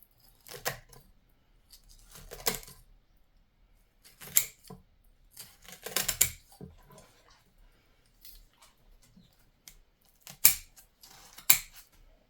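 Scissors cutting material to mark out where the upper tree will be planted in a bonsai stone planting of a dwarf persimmon, Diospyros rhombifolia: about six separate crisp snipping bursts spaced apart, close and clear, with no talk.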